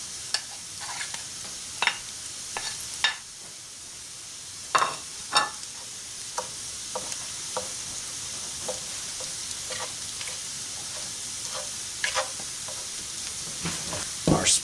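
Ground bison meat sizzles in a pan with a continuous bright hiss and irregular sharp clicks and scrapes from stirring, fairly quiet and close, with no voices.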